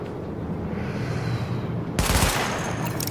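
Weapon-test gunfire in the video game The Division: a sudden loud burst of rapid shots cracks out after a steady, quiet background hum.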